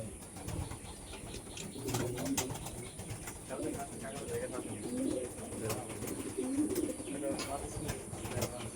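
Racing pigeons coo softly in a loft, with repeated low murmuring calls and occasional rustling, set against a constant high electrical whine and faint background noise.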